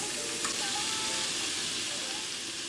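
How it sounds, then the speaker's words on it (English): Shrimp sizzle loudly in hot olive oil in a pan, a dense, continuous frying hiss that holds steady and close throughout. "Go ahead and toss in our shrimp."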